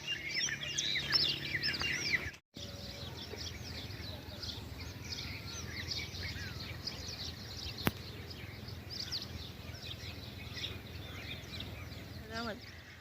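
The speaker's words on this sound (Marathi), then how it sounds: "सुंदर मंजूर पक्ष्यांचं किलबिलनाचा आवाज" Birds chirp and twitter steadily in the background, a dense outdoor chorus with occasional louder calls, moderately distant.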